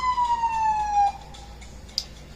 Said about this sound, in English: Let's wait for the ambulance to go into the driveway.